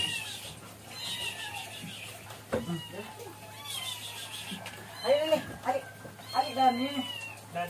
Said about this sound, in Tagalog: Ngayon naman ay ang mga mingming na naman ang pakainin ko, mga sis.